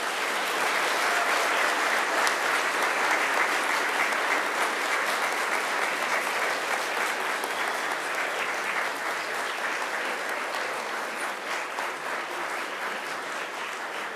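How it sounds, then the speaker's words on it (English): Graduates at a Macquarie University graduation ceremony turn to applaud their family and friends, a large hall filled with steady, dense clapping that holds evenly for the whole stretch and eases only slightly toward the end. "I invite you to give them a mighty round of applause"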